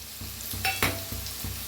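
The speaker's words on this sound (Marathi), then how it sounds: "गाजराला बी भाजून घ्यायचं कांद्याबरोबर चांगलं टाकूया" Carrot and onion roast together in a pan with a continuous close sizzle, punctuated by a few sharp scrapes and taps of stirring, and no voices.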